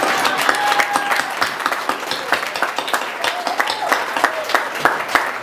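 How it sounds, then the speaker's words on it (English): Sustained applause from an audience at a Navy retirement ceremony, many hands clapping steadily for several seconds, full and fairly loud. "This is where a round of applause."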